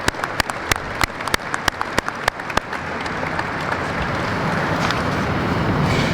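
Round of applause at a Chief Master Sergeant's retirement ceremony for a chief and a flag presentation: a few sharp, separate claps at first, then swelling into full, sustained applause from the audience.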